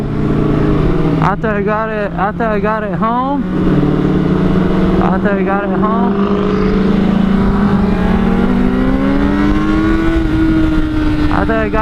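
A loud engine roars steadily throughout, with several sharp revving surges early on and a sustained drone underneath.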